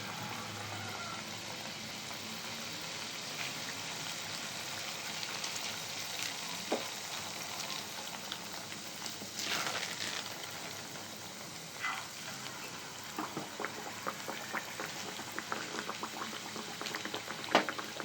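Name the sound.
arisalu (rice flour sweets) deep-frying in hot oil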